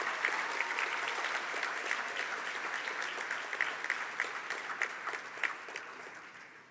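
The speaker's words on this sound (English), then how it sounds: "Let's give them all a big round of applause." An audience at a health sciences pledge ceremony applauds graduating dietetics students with a steady, dense wash of many hands clapping that carries on for several seconds and slowly tapers off, in a large hall.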